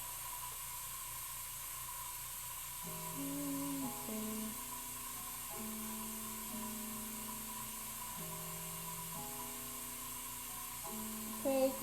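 An airbrush air compressor runs continuously in a hobby workspace, a steady motor hum and hiss beneath shifting tonal notes that step up and down in a repeating pattern throughout.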